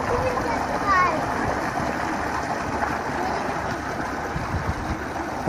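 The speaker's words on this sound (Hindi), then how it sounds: "पानी आप देख लें कितना प्रेशर के साथ आ रहा है।" Water gushing under pressure from a 6-inch tubewell turbine pump driven by a 30 hp motor, a steady loud rushing and splashing roar throughout, with outdoor wind noise.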